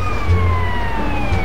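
A fire truck siren wails in the GTA video game, with a steady, loud, gliding electronic tone over a low engine rumble for the whole short moment.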